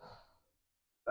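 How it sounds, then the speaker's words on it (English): A single slow, breathy exhale through a constricted throat during Ujjayi yoga breathing fades out into silence. A sudden loud sound cuts in at the very end. "Deep breath in, Ujjayi breath."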